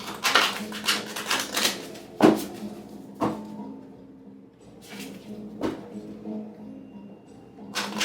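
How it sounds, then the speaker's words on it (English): Tarot cards are shuffled in several quick bursts of crisp riffling and slapping, separated by pauses, close and fairly quiet. "Two more shuffles."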